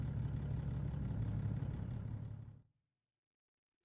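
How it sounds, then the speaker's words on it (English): Caterpillar diesel truck engine in American Truck Simulator idling with a steady, even low rumble for a few seconds before it cuts off abruptly into silence. "I hope you guys enjoyed the ATS wonderful sounds of this beautiful engine"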